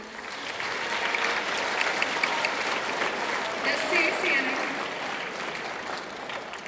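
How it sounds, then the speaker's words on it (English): Applause from an audience at a middle school academic awards ceremony for students, a full steady round of clapping from many hands with brief voices heard over it. "So please give them a round of applause"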